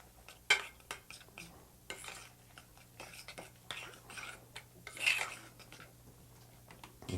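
Crab meat being stirred into a creamy mixture on the stove, soft intermittent scrapes and clinks of a utensil against a pot, with two sharper knocks, fairly quiet and close.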